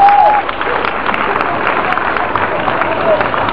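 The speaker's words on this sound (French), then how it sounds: "je voudrais qu'on acclame encore le Seigneur dans le nom de Jésus" Crowd at a church gathering at a polyclinic site in Yopougon applauding and cheering in praise of the Lord, a dense, loud, continuous wash of clapping with voices mixed in throughout.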